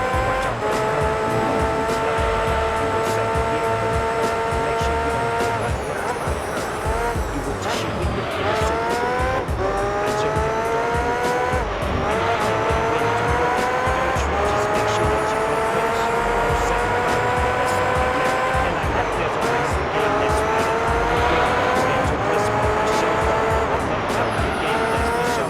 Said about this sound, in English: He's still trying to drift that Nissan.